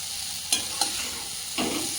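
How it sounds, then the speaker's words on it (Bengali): Coriander leaves sautéing with tomato, garlic and green chili in a pan for a bhetki fish dish, a soft steady sizzle marked by three brief scrapes of a spatula, no talking. "ধনে পাতা সব একসঙ্গে কষিয়ে নিচ্ছি"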